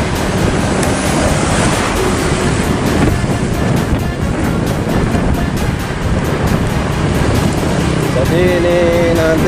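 Outdoors near a road to a bus parking area, wind and rain make a loud, steady rushing roar with buffeting microphone gusts throughout.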